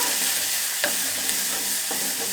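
Sliced green chillies stir-frying in a pan give a steady, close sizzle, with a few sharp spatula scrapes and clicks breaking through.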